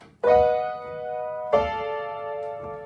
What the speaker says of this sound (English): to a minor 4 chord, which sounds like this.